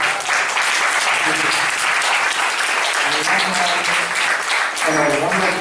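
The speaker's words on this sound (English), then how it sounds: "Please, let's give her a round of applause." Sustained, loud applause from a large crowd fills the whole stretch, with a few cheers and voices rising over the clapping.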